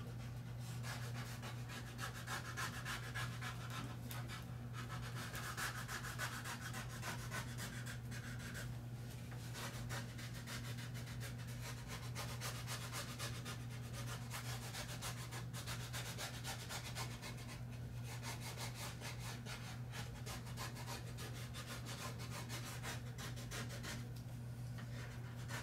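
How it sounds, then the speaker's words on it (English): Steady rubbing strokes as a decal's edges and points are burnished down onto an RC aircraft, a soft continuous friction sound over a constant low hum throughout. "Burnish down all the edges, particularly if you've got points like this."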